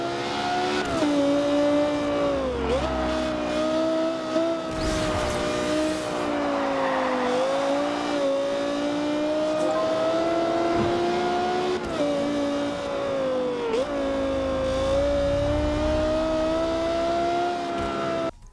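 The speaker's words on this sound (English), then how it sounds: "the high-pitched whine of a finely tuned sports car" Sports car racing in the Forza Horizon video game, its tuned engine holding a loud, steady high-pitched whine that dips briefly on gear shifts and swells again, with bursts of tire noise underneath and no talk.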